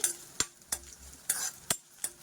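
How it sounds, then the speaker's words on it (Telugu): Garlic tempering frying in oil for Telugu charu, a faint low sizzle broken by repeated sharp metallic spatula scrapes against the pan at an irregular pace. "బాగా ఫ్రై అవ్వాలండి. ఎర్రగా అవ్వాలి పోపు"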